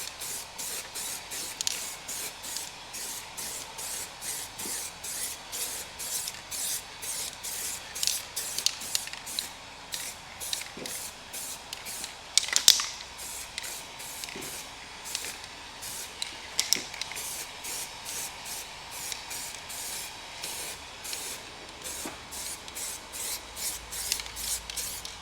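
Spray coating being applied over car wheels in repeated short aerosol bursts, a close hissing rhythm of quick sprays with brief pauses, no talking.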